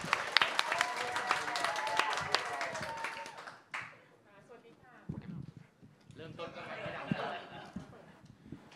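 An audience applauds to welcome a presenter at a Thai journalism training session at the Isra Institute. Dense clapping runs under loud talking voices, cuts off abruptly, and speech follows alone.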